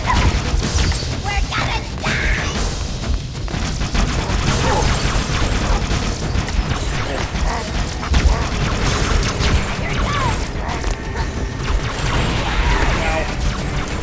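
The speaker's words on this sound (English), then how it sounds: "Reloading everything." Halo weapons reloading amid dense game action, with clanking mechanical clicks, crashes and thuds layered over constant loud combat noise and occasional speech throughout.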